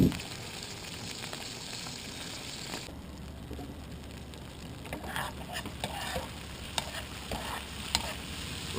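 Fiddleheads searing in a hot pan, a steady close sizzle running throughout with a few brief scrapes and clinks toward the end.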